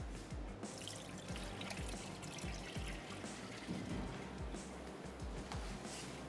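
Water draining off soaked rice in a kitchen: a quiet, steady trickle and pour, faint and continuous throughout.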